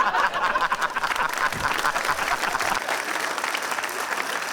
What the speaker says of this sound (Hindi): ए ताली मार